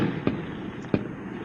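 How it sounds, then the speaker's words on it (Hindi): Two sharp gunshot cracks in an outdoor clash at the Torkham border between Pakistan and Taliban forces, spaced about two-thirds of a second apart over a steady background rumble. "पाक तालिबान में फायरिंग की तस्वीर है, एम्बियंस के साथ इसको प्ले कर दीजिएगा जल्दी से"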